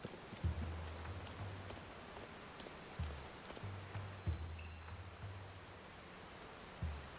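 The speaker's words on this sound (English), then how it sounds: "it's just gonna never stop raining here" Steady rain falls in the Kakariko area of the video game Tears of the Kingdom, a soft constant patter with no talk, while low game music tones come and go beneath it.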